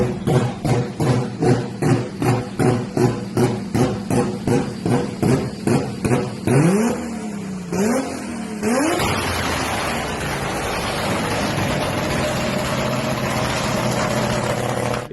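A BMW drift car engine with anti-lag activated fires in a rapid rhythmic series of loud popping pulses, then revs and wavers before settling into a sustained rough, roaring drone.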